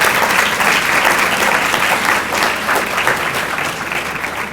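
An audience at a National Society of Collegiate Scholars evening event claps for the attending parents and family, dense, sustained applause at close range that holds steady throughout.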